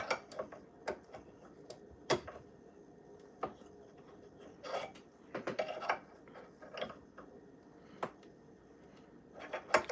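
A screwdriver tightens and then loosens a screw on a table, giving faint, sparse ratchet-like clicks and ticks at an irregular pace, close by and quiet.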